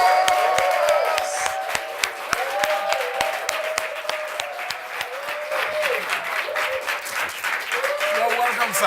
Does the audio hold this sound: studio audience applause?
yes